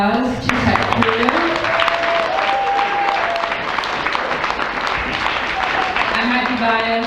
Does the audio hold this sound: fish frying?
no